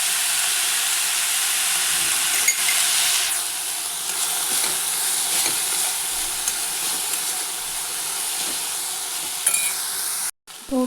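Onions sizzle in a pan with a pinch of salt, a loud continuous frying hiss with occasional stirring clicks, cutting out briefly near the end.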